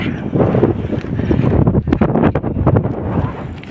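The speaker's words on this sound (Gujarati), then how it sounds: "બહુ મસ્ત પવન આવે છે" Strong wind gusts by a village lake in hills buffet the microphone with a loud, continuous rumbling roar that swells and dips throughout.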